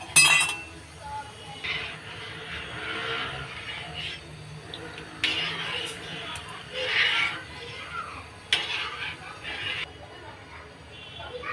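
A spoon stirs packaged milk with half a cup of powdered milk mixed in for lachha semai, giving repeated light clinks against the vessel in bursts while someone talks.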